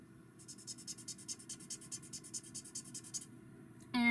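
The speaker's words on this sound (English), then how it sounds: "the bullet nib is scratchy to begin with" A Chameleon marker's bullet nib scratches across paper in a quick, even series of about fifteen short strokes, close and crisp, ending with a brief louder tone.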